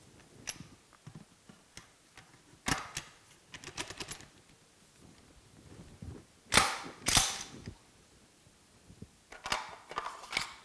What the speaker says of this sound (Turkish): Ondan sonra pistonumuzu yerleştiriyoruz. Daha sonra namlumuzu takıyoruz.